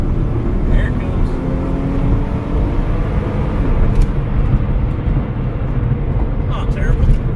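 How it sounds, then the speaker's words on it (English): A stock 1994 Toyota Supra twin turbo accelerates on a test pass, its engine a steady, loud broadband roar with rising tonal sweeps running through the whole stretch, carried under a noisy outdoor background. "We're going to just do a little test pass with the twin turbos."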